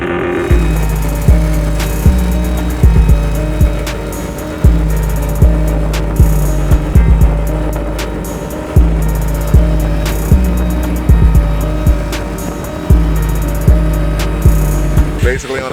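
A tuned rotary-engine car running on a dyno under simulated load, with loud, steady engine drone broken by repeated rhythmic surges and dips, close and continuous with no talking.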